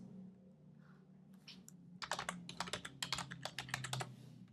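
Typing on a computer keyboard, a quick run of close, crisp key clicks in an irregular rhythm after a quiet stretch of faint room noise.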